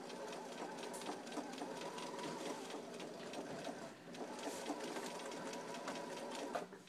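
A sewing machine back stitches and then runs along a dart in a yoke skirt. Its motor hums continuously with rapid needle clatter, close up, dipping slightly once partway through.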